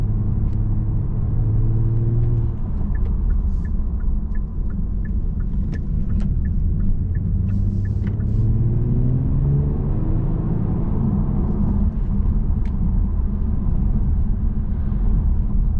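A 2020 Genesis G70 3.3T AWD rounds a turn, heard from inside as a constant loud low road and engine rumble with gently rising and falling tones and light ticks over it.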